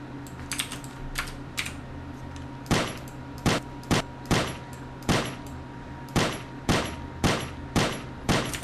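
Sharp, punchy video game gunshot sound effects fire in a loose irregular series, about a dozen bursts with brief gaps, over a steady low background hum, in a first-person shooter made in the Blender Game Engine.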